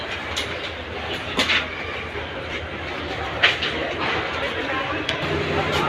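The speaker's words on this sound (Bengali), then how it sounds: "সেই নির্দিষ্ট টাইমের কিছু বিলম্ব করে ট্রেনটি ঢাকাতে আসছে" The Chittagong mail train pulls into Dhaka Kamalapur railway station running late, a continuous rolling rumble with occasional wheel clanks and clicks, while crowd voices murmur throughout the busy platform.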